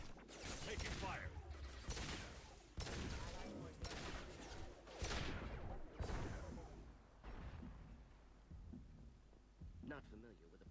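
Gunfire in Mass Effect 2 combat comes as repeated loud bursts of shots mixed with game effects and voices talking throughout.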